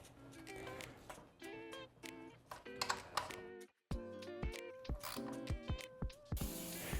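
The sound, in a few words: tightening chain guide bolts on Yamaha Warrior 350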